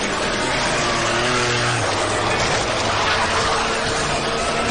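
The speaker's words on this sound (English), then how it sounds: "Rally cars turn rustic country roads into a wild racetrack." Rally cars race along rustic country roads, engines roaring in a dense, loud, continuous wash of noise with a hint of tire squeal, and no clear talk.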